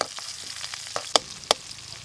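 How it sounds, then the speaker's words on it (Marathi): Onions sizzle in hot oil in a wok over a wood-fired clay stove, with a few sharp metallic clicks of a spatula stirring against the pan. "कांदा चांगला परतून घेऊया"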